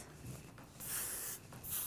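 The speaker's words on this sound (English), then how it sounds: "we're gonna spray it with a medium hold hairspray" Medium hold hairspray misted onto hair during curl styling, two short hissing bursts from an aerosol can, close and fairly soft.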